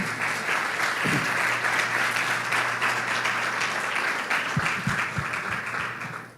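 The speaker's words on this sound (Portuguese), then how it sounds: "Vamos aplaudir a Jesus, gente?" A crowd applauding steadily for several seconds, the clapping thinning slightly toward the end.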